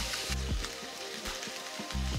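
Fish fries in a stainless steel pan with a steady, soft sizzle and crackle, plus a few faint low knocks, with no talking.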